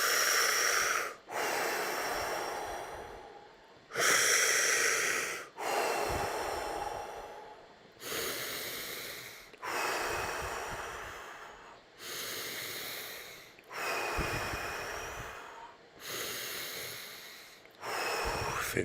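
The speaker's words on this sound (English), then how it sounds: "feel free if you just want to feel like breathing through the mouth, it's okay" Deep, forceful breaths through the mouth during a guided DMT breathing exercise, each loud rushing inhale and exhale repeating in a steady rhythm with short pauses between, close to the microphone and with no talking.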